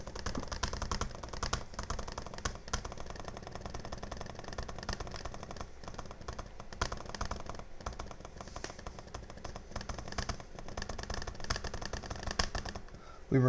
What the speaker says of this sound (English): even though I was clicking insanely fast.